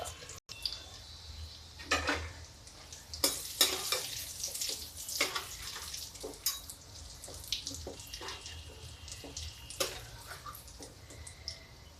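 Mung dal snack frying in hot oil over high heat, a steady sizzle broken by repeated sharp bursts of crackling and stirring scrapes, close and fairly loud, with no voices.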